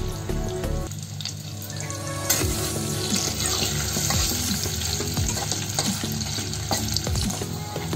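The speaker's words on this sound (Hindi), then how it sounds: "इसे मीडियम फ्लेम पे और शैलो फ्राई करना" Paneer shallow frying in a pan over a medium flame gives a steady, loud, close sizzle throughout, with stirring scrapes and some watery splashing in the mix.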